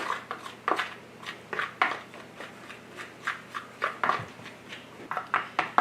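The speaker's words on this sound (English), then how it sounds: "and we're going to stir it up" Flour and water for a sourdough starter stirred in a small container, giving repeated scraping, scratchy strokes in a steady rhythm, close and moderately loud with no talking.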